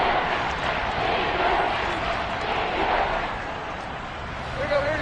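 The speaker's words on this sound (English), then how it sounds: "The crowd getting into it as we come up on a big third down" A stadium crowd roars steadily in a football video game during a big third down in the fourth quarter, a dense continuous wash of cheering with no distinct breaks.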